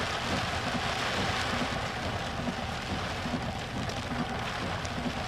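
Heavy rain pounding down during a severe storm chase in Beaver County, a loud, dense, continuous roar of drops hammering surfaces close by with no letup.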